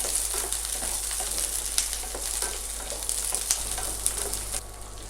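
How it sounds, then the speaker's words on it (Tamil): Small sambar onions and garlic cloves sautéing in hot oil in a pan, a steady close crackling sizzle with occasional stirring scrapes and no talk. "2 பூண்டுங்க, மீடியம் சைஸு சேர்த்துட்டு கொஞ்ச நேரம் எண்ணெயில் வதக்கலாம்."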